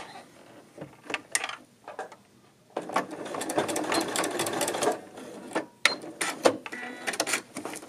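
A domestic sewing machine stitches a chain stitch seam on a tunic in short runs, its rapid mechanical whirr starting and stopping with brief pauses and a longer steady burst in the middle, close and fairly quiet.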